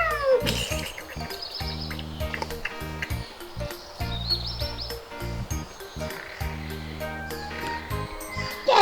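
A cat meows repeatedly in high, drawn-out cries, close by in a pet-friendly cafe, with some rustling and faint background noise between the calls.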